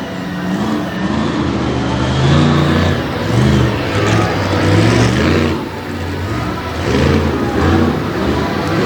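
A Ford race car, the Straight Jacket Ford, roars loudly at the 2021 Mayhem in the Mountains dirt-track event in Bloomsburg, PA, its engine revving and surging in repeated waves, close and powerful, with no talk over it.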